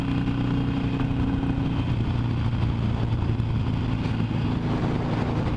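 A Harley-Davidson motorcycle fitted with a sport exhaust rides along the BR 101 highway, giving a steady, loud, low engine rumble under constant wind and road roar, with no voices.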